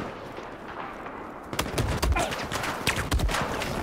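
Battlefield 4 gunfire breaks out after a quiet opening: a close, loud burst of shots followed by scattered reports that keep recurring, with no talking.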